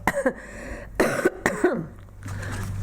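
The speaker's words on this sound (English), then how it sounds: "get to the microphone and I cough." A few sharp coughs close to the microphone at a borough council meeting, with short pauses of quiet between them and low room noise underneath.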